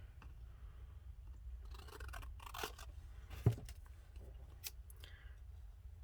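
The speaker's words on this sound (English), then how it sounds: "So I'm just going to cut a square around this flower." Scissors snip a square out of a patterned paper page for a mini junk-journal project, with a few quiet close crisp cuts and paper rustles over a low room hum, and one sharper snip midway.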